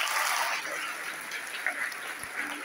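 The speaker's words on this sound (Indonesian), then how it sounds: "Tepuk tangan buat yang bahagia hari ini." A crowd at a motivational event in a modern Islamic boarding school applauds steadily, the clapping blending into a dense, even wash of moderate loudness for a few seconds.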